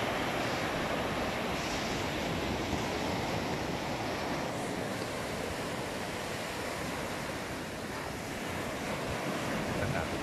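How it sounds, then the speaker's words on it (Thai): Ocean waves wash onto the seashore in the early morning, a continuous loud surf roar mixed with gusting wind buffeting the microphone, with no voices. "คลื่นนะฮะ"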